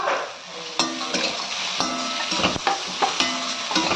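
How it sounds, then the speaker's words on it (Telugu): Peanuts go into a pan of softened cooked tomato and are stirred, with rhythmic spatula scrapes and knocks over a continuous close sizzle. "ఆ పల్లీలు కూడా వేసేయండి"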